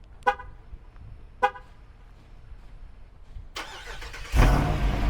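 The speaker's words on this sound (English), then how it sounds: "you guys want to get the first start up on the truck?" A Jeep Wrangler 392 starting for the first time: two short honk-like chirps, then the V8 catches with a rising rumble and a loud roar near the end, with no talking.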